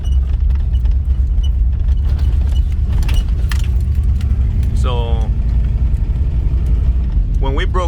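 Inside a truck jolting along a very bumpy road, a loud continuous low rumble mixes with rattles and knocks from the cab, and a few brief voices come through near the middle and end.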